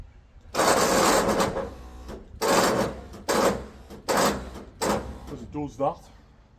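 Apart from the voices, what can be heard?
winch operating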